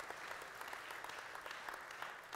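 Audience at a church men's retreat clapping continuously in a dense, even wash of applause, faint and distant-sounding, with no clear voices.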